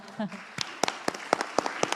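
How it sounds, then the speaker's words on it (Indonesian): Scattered hand claps from an audience honouring Pak Purbaya at an Indonesian talk event, a handful of sharp separate claps rather than full applause, moderately close. "Kasih tepuk tangan dulu buat Pak Purbaya"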